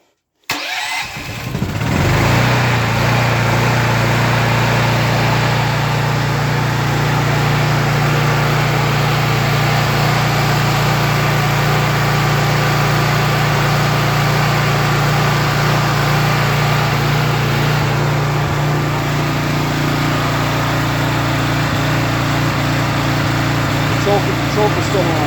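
A Honda EM6500S generator cranks and catches within the first two seconds, then runs with a loud, steady engine drone that continues unbroken to the end, with a voice heard over it.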